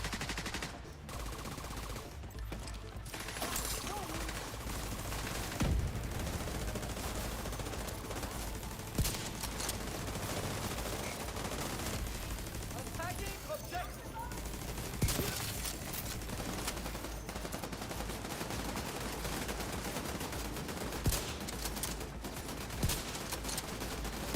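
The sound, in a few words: gunfire while moving in the video game The Division 2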